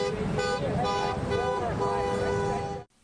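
Car horns at a peace protest in Fresno honk in sustained, overlapping tones for nearly three seconds, loud and close, with voices mixed in under the blare before it cuts off abruptly.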